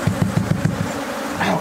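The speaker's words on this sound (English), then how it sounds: "Let's just stand here for a minute and see how aggressive these bees are, how many come out." A swarm of aggressive bees pouring out of a hive buzzes close by in a dense, pulsing drone, with a few rhythmic low thrums standing out briefly.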